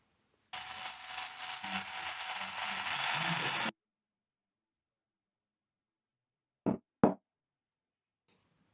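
M3 by 20 mm screws driven into an RC car gearbox case: about three seconds of steady, close buzzing driver noise, then two short clicks and a faint tick after a pause.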